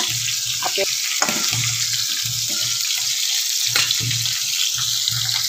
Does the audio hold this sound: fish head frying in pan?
yes